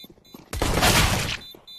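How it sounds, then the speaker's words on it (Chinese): Bomb detonating in the shooter game CS:GO, a single loud, close blast lasting nearly a second before dying away into quiet, with brief faint voices on either side. "哎，炸弹炸了，他们又拆不掉了"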